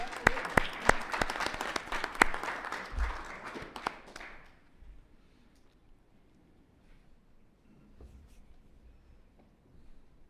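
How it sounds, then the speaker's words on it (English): Scattered applause from a small audience at a village council meeting, with sharp individual claps close by that fade out after about four seconds into quiet room noise and faint shuffling. "You can give him a round of applause."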